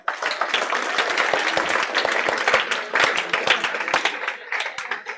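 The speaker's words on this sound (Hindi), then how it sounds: "क्या आप इस छोरी के लिए ताली बजा सकते हो?" Students in an accounting lecture class applaud, a lively burst of many hands clapping nearby with sharp individual claps poking out of the steady patter for several seconds.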